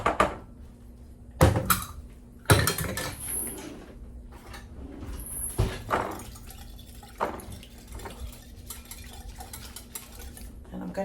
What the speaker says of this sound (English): So we'll go ahead and mix my coleslaw.